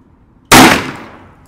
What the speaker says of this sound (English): now we're going to shoot with some Underwood 124 grain plus P